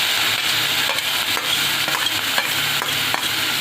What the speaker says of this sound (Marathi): आता ह्याच्यामध्ये थोडंसं चिमूटभर हिंग घालूया आणि त्याच्यात आता हे वाटलेली मिरची